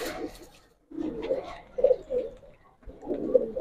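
Giribaz pigeons in a loft coo in low, rolling phrases, several bursts with short pauses between, close by and moderately loud, with bits of rustling in the gaps.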